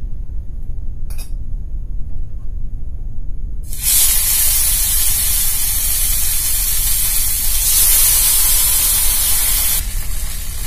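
Paneer sizzling and hissing in a pan over a medium gas flame with just two drops of oil, a steady loud fry that swells up after a brief clink and continues without talk.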